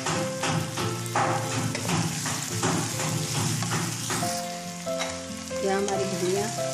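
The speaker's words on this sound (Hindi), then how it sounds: "यह हमारी भिंडियाँ थोड़ी फ्राई हो गई है, अब हम इन्हें दम लगा देंगे।" Okra (bhindi) fries in a pan with a loud, continuous sizzle, along with repeated stirring taps and scrapes. Faint tonal music plays quietly in the background.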